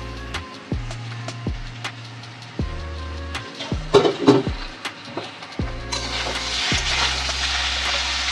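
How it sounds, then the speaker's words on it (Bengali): Eggplant fries in oil with a steady sizzle and repeated utensil scrapes and knocks. The sizzling grows louder and fuller toward the end. "বেগুনটাকে এর মধ্যে সুন্দর করে ভাজা ভাজা করে নেব।"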